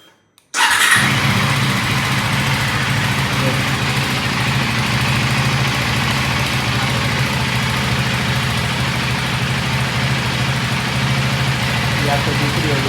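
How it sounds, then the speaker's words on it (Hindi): A KTM Duke 390 Gen-3 motorcycle engine fires up near the start, then settles into a loud, steady, close idle with a constant low throb that carries on to the end. "अगर इससे स्टार्ट करूँगा ना तो शायद अभी भी वाइब्रेट होगी भाई"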